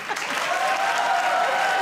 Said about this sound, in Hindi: जिनको लगता है वो अच्छे तालियां बजाएं